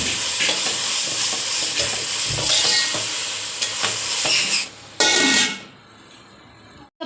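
Ginger-garlic paste frying in a pan for dum biryani gives a steady, close sizzle while a spoon scrapes and stirs it, then cuts out briefly before a final loud burst of sizzling that fades away.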